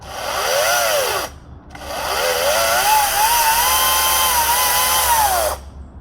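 A Greenworks 60V brushless battery chainsaw revs up after its chain brake is released, a loud high electric whine in two bursts, the first short, then a longer sustained run before stopping.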